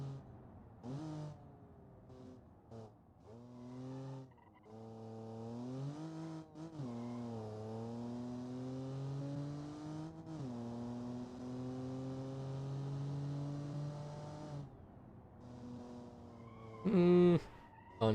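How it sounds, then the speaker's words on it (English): A small-tired, low-powered simulated car in the BeamNG driving game spins its wheels, its engine whining loudly and steadily with pitch sweeping up and down, and a brief sharp squeal near the end. "It's just got lots of wheel spin."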